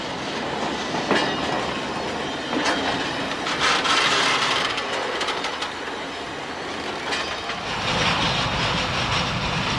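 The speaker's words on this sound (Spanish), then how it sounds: "Los trenes colectores recogen los distintos vagones" Railway freight wagons roll and clatter through a marshalling yard, dropping down a hump slope and braking, with clanking wheel noise, metallic squeals and bumps rising and falling steadily.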